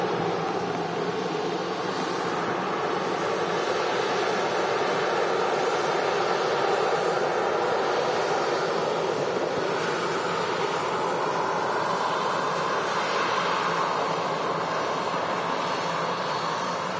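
A Ryanair airliner arriving from Berlin at Manchester Airport in wet weather, a steady broadband jet roar holding loud and even throughout, with no talk over it.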